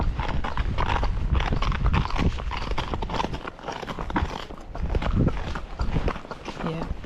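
Horse hooves clop along nearby at an even walking pace while a person talks over them.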